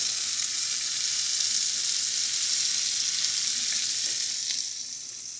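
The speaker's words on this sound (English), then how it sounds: "Check out that sizzle." Jalapeno ranch sausage roll ups sizzle in a hot frying pan, a steady, close, bright hiss that holds evenly and eases slightly at the end.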